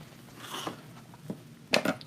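Crunchy ribbon crinkled and handled while a wreath bow is shaped, giving soft rustling followed by two sharp crackly crunches near the end, close and fairly quiet.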